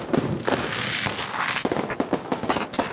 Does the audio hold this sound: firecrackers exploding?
yes